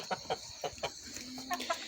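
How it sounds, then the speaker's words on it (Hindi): A rooster clucks among free-ranging hens, a string of short, soft clucks in an uneven rhythm, close and fairly quiet outdoors. "ये आ गया मुर्गा"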